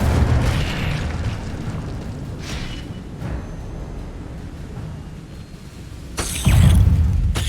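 Incendio fire spell cast in the game Hogwarts Legacy, a sustained booming, rumbling burst of flame that swells again into a louder whooshing blast toward the end.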